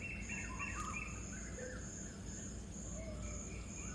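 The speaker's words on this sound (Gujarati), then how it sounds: "જે મને વહેલી સવારે પક્ષીઓના આ અવાજ સાથે ઉઠાડી દે છે" Birds chirp faintly in the early morning, with scattered high calls at a distance over a constant soft hiss of insects and ambience.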